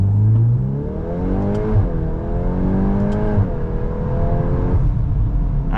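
A 2025 Volkswagen Golf R, a turbocharged four-cylinder hot hatch with a dual-clutch gearbox, accelerates hard from inside the cabin, its engine note climbing steadily through two quick upshifts, loud and continuous.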